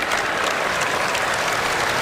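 The Pittsburgh home crowd at a college men's basketball game against Boston College applauds an injured player, a loud, steady wash of clapping filling the arena from start to finish.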